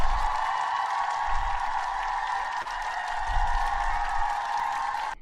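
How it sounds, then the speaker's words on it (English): A crowd claps steadily for several seconds, a dense patter of applause heard at moderate distance. "We're gonna clap for Mac Main one time."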